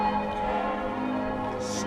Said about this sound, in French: Les cloches des églises, ils sonnent tout le temps.